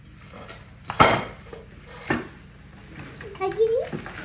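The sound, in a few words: small utensils and bowls being handled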